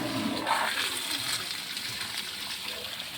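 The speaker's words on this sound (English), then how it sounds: "Got the toilet, give her a flush." A hotel room toilet at a Clearwater Beach resort flushes, giving a steady rushing gush of water that stays loud and close for several seconds with no talking.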